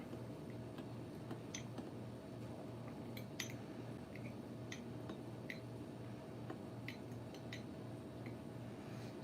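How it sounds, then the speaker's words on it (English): A luck oil mixture is stirred in a small container, giving faint, sparse ticks and light clinks at an irregular pace over quiet background hiss. "I'll just quickly give this a little stir."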